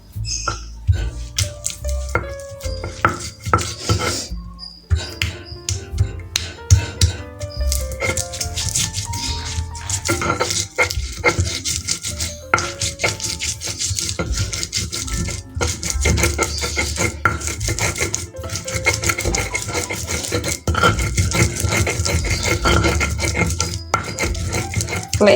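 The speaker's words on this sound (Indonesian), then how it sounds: "Awalnya kita ulek dulu kemirinya ya Bun" Fried candlenuts are ground by hand in a mortar and pestle while making sambal for pecel lele, giving a steady run of close, busy scraping and knocking that keeps going for the whole stretch with no talk.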